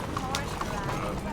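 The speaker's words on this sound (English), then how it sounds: "That's a nice horse." Horse hooves clip-clop steadily in Red Dead Redemption 2 gameplay, a continuous trotting rhythm set against dense background noise and mixed under talking voices.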